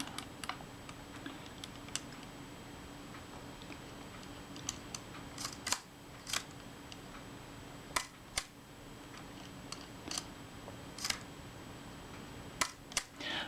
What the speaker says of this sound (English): Let's try the shutter again. Cock the shutter, advance the film.